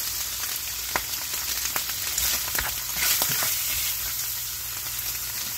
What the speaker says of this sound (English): Just fry it up for a few minutes.